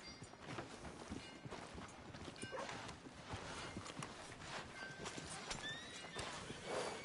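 Hooves clip-clop steadily as a horse walks in Red Dead Redemption 2, with a whinny near the end, all faintly under a busy ambient background.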